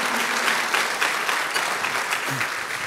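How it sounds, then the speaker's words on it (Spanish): Church congregation applauding during a worship service: steady, dense clapping from a large group, moderately loud throughout, with a faint voice briefly audible near the end. "dale un fuerte aplauso al Señor"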